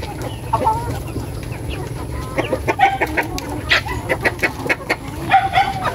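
Several chickens and roosters cluck and squawk in short, irregular bursts, close by, with a low background murmur.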